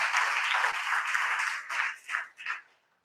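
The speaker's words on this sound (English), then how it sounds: "Give him a big round of applause." A crowd claps to welcome a speaker being introduced at a talk, a sustained round of applause that thins into a few scattered claps and fades out.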